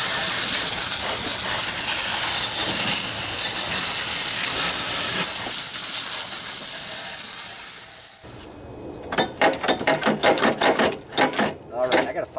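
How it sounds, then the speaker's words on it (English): A garden hose sprays hard onto a Craftsman 42-inch mower deck to wash off caked debris, a loud continuous hiss that fades toward the end, followed by a burst of rapid rhythmic clatter. "I think I'm gonna hose some of it off here just so I can see what's going on."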